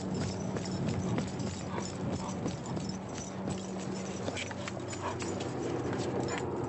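A police dog on a search in Las Vegas, Nevada, barks and whimpers repeatedly at close range amid scuffling movement and faint background voices.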